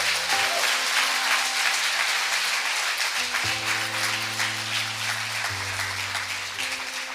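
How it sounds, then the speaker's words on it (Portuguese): A church congregation at a worship service applauds loudly and continuously, sustained clapping from many hands with music tones underneath. "Você pode aplaudir Jesus por isso?"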